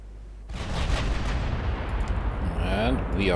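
Naval guns firing during a battle against cruisers in the Ultimate Admiral Dreadnoughts strategy game, an abrupt loud boom followed by a sustained rumbling barrage with overlapping blasts and a faint whistling tail.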